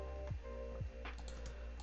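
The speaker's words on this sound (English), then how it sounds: "I'm going to type it out so it's a lot more clear for you guys" Keys tapped on a computer keyboard while typing a label on a forex trading chart, a few soft close clicks over a steady low hum.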